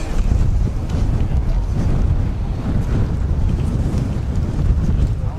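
Strong wind buffets a microphone outdoors at an airport, giving a loud, continuous low rumble that surges and eases slightly throughout.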